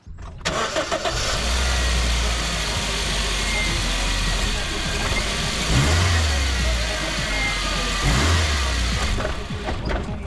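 A small 4x4 car engine with a broken engine mount runs loudly and steadily up close, with a deep droning hum and a couple of heavier revs, while a person talks over it.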